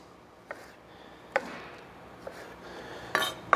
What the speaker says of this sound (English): I'm just going to cut this straight down here.